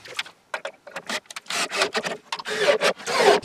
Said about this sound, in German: werde jetzt mal nur provisorisch diesen Rahmen hier vorne draufschrauben